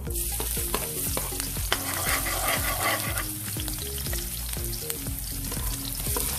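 Garlic sautés in a hot pan for a stir-fried bottle gourd dish, with steady close sizzling under frequent metallic scrapes and clicks of stirring throughout.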